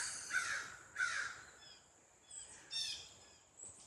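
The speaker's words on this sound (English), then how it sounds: "crows are so loud" Several crows caw in short harsh bursts, some fairly close and others farther off, spaced out against a quiet background.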